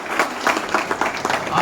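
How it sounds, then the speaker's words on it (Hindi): Applause from an audience at a university tribute programme in Jharkhand, a steady patter of many hands clapping at moderate volume, with faint voices mixed in underneath. "तालियां सबके लिए"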